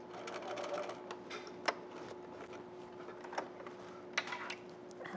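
A sewing machine backstitches along the seam of a beginner's zipper clutch handbag, a quiet, steady mechanical hum punctuated by a few sharp ticks and clicks, with no talk.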